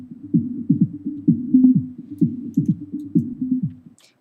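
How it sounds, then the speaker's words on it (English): A filtered drum loop in FL Studio plays with only a narrow low-mid band left, so the hits come out as muffled, rhythmic, almost tonal thumps repeating steadily before cutting off. "the drums are almost sounding a bit melodic over here"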